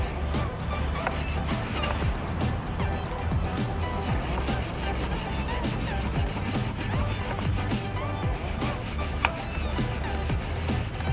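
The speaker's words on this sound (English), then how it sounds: "So I'm actually going to smooth that out just a hair before I use my steel wool." Steel wool scrubs steadily across wood furniture, rubbing excess epoxy off a pet-damaged surface in a continuous, close, gritty scratching with no talking.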